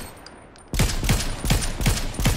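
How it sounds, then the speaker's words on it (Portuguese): After a quiet start, a rapid burst of gunfire erupts in Fortnite: sharp repeated shots in quick succession, loud and close, continuing to the end. "Começou a tomar tiros, Homem-Aranha."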